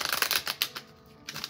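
Tarot cards being shuffled by hand, a rapid papery riffle of flicks and slaps with a short lull near the middle before the shuffling resumes, close and clear with no talking.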